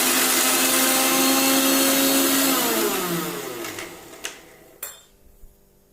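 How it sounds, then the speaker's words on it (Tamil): Mixer grinder whirring as it grinds onion and garlic in its jar, a loud steady motor drone that winds down after about three seconds, followed by a few sharp clinks of the jar or lid. "இப்போ அதே ஜாரில் வெங்காயம், பூண்டு போட்டு அரைச்சி எடுத்துக்கலாம்"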